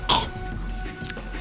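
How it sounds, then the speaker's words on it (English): A single short cough bursts out near the start, close to the microphone, followed by quieter game sounds and room noise. "I was coughing"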